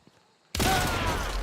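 A single shotgun blast in a hunting video game, a sudden loud boom after a short quiet moment, with a rumbling tail that fills the rest of the clip.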